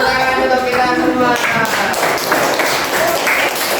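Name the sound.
applause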